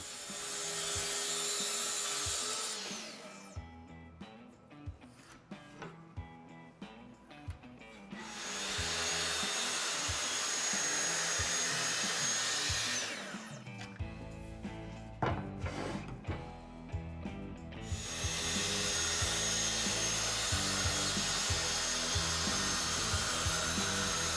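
A power saw rips through a plywood sheet in three long, loud, steady cutting passes, each stretch broken by quieter gaps of shuffling and handling of the sheet goods.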